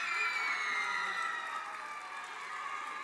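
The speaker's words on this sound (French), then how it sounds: "on va les applaudir" A gala audience applauds and cheers as names are announced, a dense sustained roar of clapping with high whoops and shouts that stays steady throughout.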